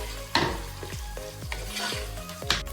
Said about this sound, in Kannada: ಸೊ ನಾನು ಇವಾಗ 2 ಈರುಳ್ಳಿನ ಯೂಸ್ ಮಾಡ್ತಾ ಇದ್ದೇನೆ. ಇದನ್ನ ಸ್ವಲ್ಪ ಫ್ರೈ ಮಾಡ್ಕೊಳ್ಳೋಣ.